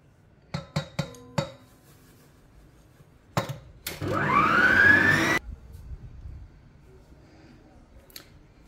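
A stand mixer whips egg white meringue with sugar for a pavlova roll. A few sharp clicks come first, then a loud whirring burst lasts just over a second before the kitchen goes quiet.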